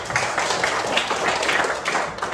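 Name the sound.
group clapping hands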